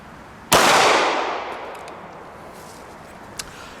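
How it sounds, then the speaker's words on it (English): A Walther P99 AS 9mm pistol decocks with a single loud, sharp metallic snap up close that rings out and fades, followed by a faint click. "You just punch the top right there, and the gun decocks."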